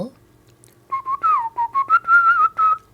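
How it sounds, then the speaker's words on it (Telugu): A singer whistles a plaintive song melody alone, a run of sustained, bending notes broken into short phrases, close and clear against a quiet background. "ఆ భావాన్ని విజిల్లో పలికించాలి"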